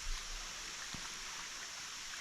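A small Red River Gorge creek running over eroded rock channels, a steady soft wash of flowing water throughout with one faint knock partway through.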